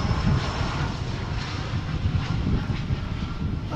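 Airbus A319 arriving at Dallas/Fort Worth Airport from Tulsa, Oklahoma, with a steady, fairly soft engine rumble and broadband rush that holds throughout, no voices over it.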